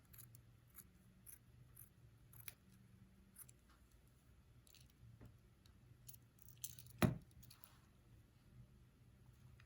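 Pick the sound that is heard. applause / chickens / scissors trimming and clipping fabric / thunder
scissors trimming and clipping fabric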